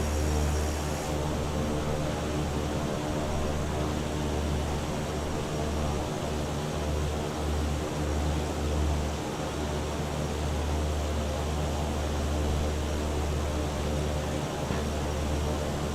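A Viking Air CL-415 aircraft in flight on a water drop practice run, heard from inside as a constant, loud, even engine drone with a low rumble throughout.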